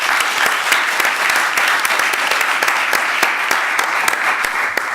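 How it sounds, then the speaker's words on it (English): Seminar audience applauding the speakers at a retirement age seminar's closing, with a dense, loud, continuous wash of clapping from many hands and scattered sharper claps throughout. "And please give them a round of applause."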